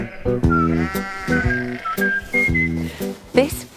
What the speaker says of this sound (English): And there are a lot of sheep here.